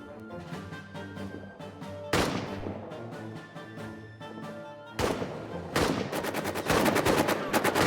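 Gunfire in a WWI trench warfare video game as soldiers fire on sight, with loud sharp rifle cracks and bursts of rapid machine-gun fire coming in waves over a steady low rumble, without any talking.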